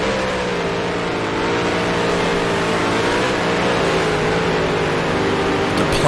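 F5000 race cars circling Lime Rock in Grand Prix Legends, several engines droning together at steady high revs, loud and continuous with slight pitch shifts as they fan out, no talking.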